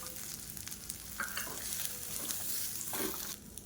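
Chana dal, curry leaves and grated coconut roasting in a pan for coconut thuvayal, a close, continuous dry sizzle with scraping stirs and brief clinks, moderately quiet and without speech.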